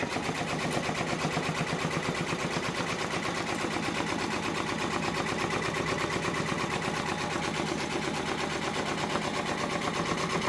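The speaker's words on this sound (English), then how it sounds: "I'm going to go ahead and hit start. It's doing the last stitch out with the red bobbin." An OESD embroidery design stitching out its final pass with a red bobbin thread on a home embroidery sewing machine, giving a steady, continuous mechanical whir with rapid needle rhythm at an even speed throughout.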